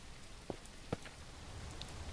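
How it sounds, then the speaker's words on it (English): Rain in the survival video game Mist Survival falls as a soft, steady hiss, with a couple of brief, slightly louder drop ticks, faint and without voices. "It's starting to rain."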